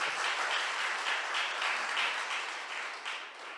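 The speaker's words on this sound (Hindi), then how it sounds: "ताली जोर से बजाइए।" Congregation at a Sunday evening Hindi church service claps hands together in a dense, steady burst that gradually fades toward the end.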